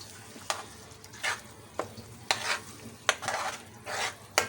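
Egg masala in a pan being stirred in several scraping strokes over a soft background sizzle, close and fairly loud, with no talking.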